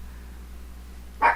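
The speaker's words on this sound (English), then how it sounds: "Sorry if you hear my dogs barking in the background." A dog in a home barks once near the end, a single short sharp bark at moderate distance after a quiet stretch of low room hum.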